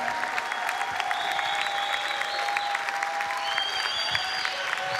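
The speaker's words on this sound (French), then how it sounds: "vous pouvez faire un tonnerre d'applaudissements à Saëlys" Audience applause at a ceremony, continuous dense clapping from a large crowd with faint tonal sounds over it, steady and sustained throughout.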